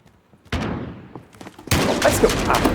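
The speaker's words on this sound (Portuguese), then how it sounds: "Quem está atirando em mim e da onde?" Gunfire in a video game shooter: a sharp shot bursts out, a pause filled with scattered smaller reports, then a dense loud volley of rapid fire that continues to the end.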